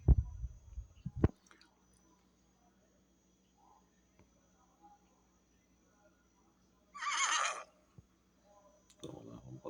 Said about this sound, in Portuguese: Aqui, vamos colocar aqui cavalo